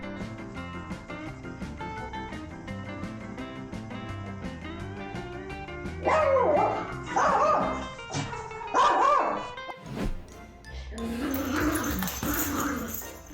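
A playful puppy barks, yips and growls in several bursts over the second half, fairly close, on top of steady background music with a beat.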